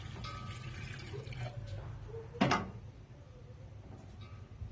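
Yakhni stock poured into kabuli pulao in a home kitchen, a soft liquid splash with one brief louder pour in the middle and faint clinks against a low background hum.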